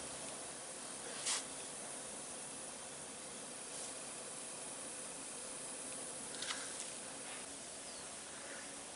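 Compressed air hisses steadily into a big truck's transmission while an auxiliary gearbox is being installed, a constant faint rushing with a few brief louder spurts, and no talking.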